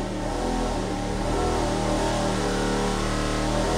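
A race engine on a dyno, running on pump gas at 24 degrees of timing, makes a pull from 4,500 to 6,500 rpm: a loud, steady, dense roar that holds strong with no voices over it.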